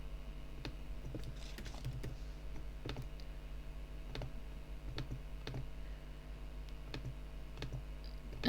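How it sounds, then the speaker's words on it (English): Someone types a username and password on a computer keyboard, producing sharp, fairly regular key clicks at close range over a faint steady hum, with no speech. "you just want to type in with your username and password"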